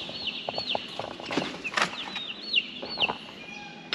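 Chickens cluck and chirp near a backyard coop and chicken tractor, a cluster of close, rapid calls and squawks with some wing flutters, fairly clear and without talk.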